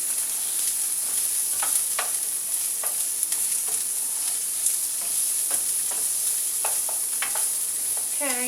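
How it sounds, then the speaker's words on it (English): Chopped garlic with onion sizzling steadily in a hot pan, broken by a series of scraping stirs and utensil scrapes, close and continuous with no voices. "I have 2 cloves of garlic that I have chopped. Give these a good stir."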